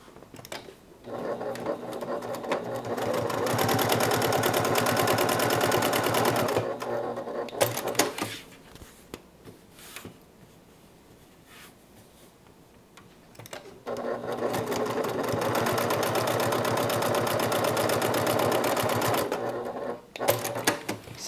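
A sewing machine runs in two long steady bursts, stitching the side seams of a bag at a 1/4 inch seam allowance, with a quiet pause between the runs and no talking.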